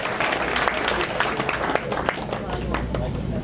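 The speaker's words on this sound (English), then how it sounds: "Let's give them another round of applause." Audience applause at a State of the City address for the police department, steady clapping running throughout with crowd murmur and some voices mixed in.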